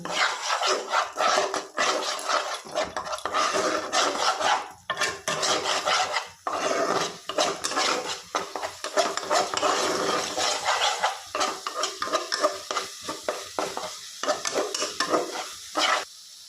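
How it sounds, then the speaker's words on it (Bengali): A spoon scrapes and stirs masala sautéing in oil with red chili powder and green chili paste for a homestyle chicken bharta, steady close sizzling under repeated rhythmic scraping strokes, with no talking. "সমস্তটা খুব ভালো করে কষিয়ে নেব"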